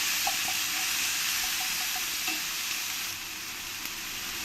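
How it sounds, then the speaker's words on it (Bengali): Onion paste fries in oil with whole spices for a katla fish kalia, a steady hiss and sizzle with a few light stirring taps early on, softening slightly near the end. "তারপরে দিয়ে দিতে হবে পেঁয়াজ বাটাটা পেঁয়াজ বাটাটা ভালো করে মশলার সঙ্গে মিশিয়ে নিতে হবে"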